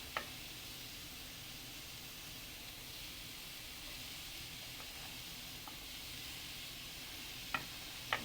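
Four sliced onions for egg biryani sizzle in a pan with a soft, steady hiss, broken by a few faint clicks near the end.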